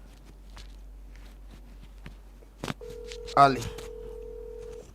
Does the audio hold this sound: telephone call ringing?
yes